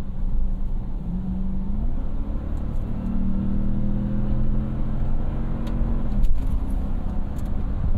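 The 4.6-litre engine of a 2010 Toyota Land Cruiser VX drones and rises in pitch as it accelerates, heard from inside the cabin over a steady road rumble.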